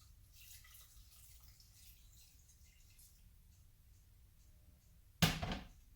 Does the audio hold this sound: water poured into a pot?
yes